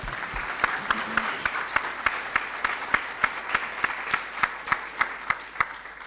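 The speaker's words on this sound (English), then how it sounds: "Lastly, round of applause for the investors." Conference audience claps for investors on a university main stage during an AI and machine learning event, a steady run of sharp, evenly spaced claps that sounds like a small group or a sparse crowd, fairly close and continuous.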